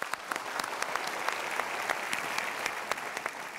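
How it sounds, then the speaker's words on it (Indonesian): A seminar audience applauds together in a steady, dense wash of clapping that holds for several seconds, with a few sharper claps standing out and no talk over it. "tapi kita berikan tepuk tangan dulu."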